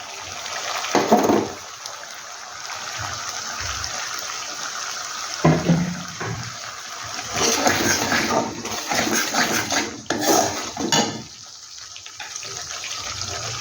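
A small splash of water is poured into a cooking pot while lau muithya, bottle gourd dumplings, are being made. It comes as short gushing bursts, fairly close, with quiet gaps between them.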